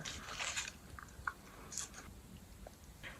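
Close, quiet mouth sounds of someone chewing bubble mint gum, with soft wet smacks and small crunchy clicks scattered irregularly through a short stretch, no talking.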